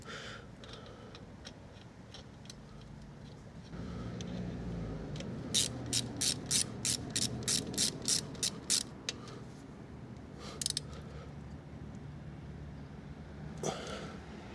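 A ratchet tightening a bolt on a Honda CB125F motorcycle during maintenance, a quick burst of about a dozen sharp, evenly spaced clicks, close and fairly loud, with a few scattered single ticks before and after.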